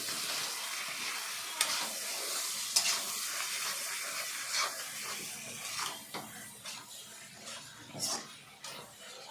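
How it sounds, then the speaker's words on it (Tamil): Tomatoes frying in a pan for a chicken gravy give a steady sizzle, broken by a few sharp clicks and scrapes of stirring. The cooking sounds are close and moderately loud, and no one speaks. "தக்காளி ஆட் பண்ணி கொஞ்சம் ஃப்ரை பண்ணுங்க 2 நிமிஷம்."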